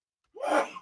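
A single sharp sneeze, bursting in after a brief silence and trailing off in under half a second, close and fairly loud, with no talk over it.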